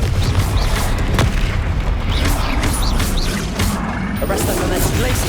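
Spell blasts and booming impacts from combat in Hogwarts Legacy, loud and continuous with dense rumbling layers and short bright accents scattered throughout.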